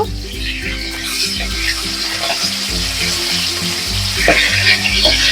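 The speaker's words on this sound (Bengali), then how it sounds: "মাছগুলো আমি উল্টে দেব।" Hilsa fish fry in hot oil in a pan with a steady, close crackling sizzle, overlaid by a repeating low tonal hum throughout.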